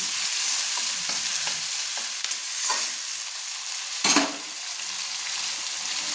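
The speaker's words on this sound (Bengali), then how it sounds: "পেঁয়াজটা আমি লাল লাল করে ভেজে নেব।" Onions fry in oil in a pan with a continuous loud sizzle, broken by several scraping stirs and one sharp clatter near the middle, with no voices.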